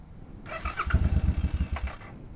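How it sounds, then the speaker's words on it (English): A motorcycle that has run out of gas cranks and sputters, its engine firing in a rapid, uneven burst of pulses for about a second and a half before dying away. "Let me just try to start it real quick."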